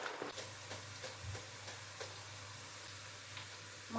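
Potatoes cut for fries crackle and sizzle steadily in hot oil, a dense close hiss with faint stirring clicks and no talking.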